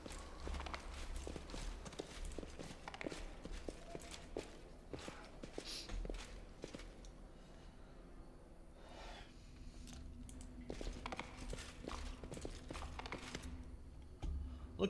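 Horse hooves clip-clop in Pathfinder Kingmaker, a run of soft, irregular thuds under low game ambience, fairly quiet throughout.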